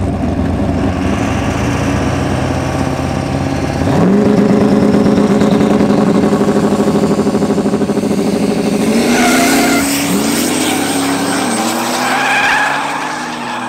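A no-prep grudge drag race at an airport launches against a diesel truck: engines roar and rev loudly, tires squeal and skid, and the pitch climbs and shifts through gears as the vehicles pull away, with no talking.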